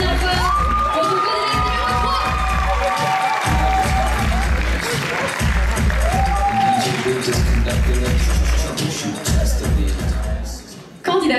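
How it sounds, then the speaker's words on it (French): Theatre audience at a Miss Côte d'Or pageant evening claps and cheers for a candidate, with loud sustained applause, whoops and shouts, steady rhythmic stomping or beating underneath, and a few rising voice cries, all fading slightly near the end. "on applaudit bien fort pour notre"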